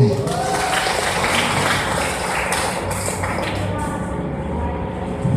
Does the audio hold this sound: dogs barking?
no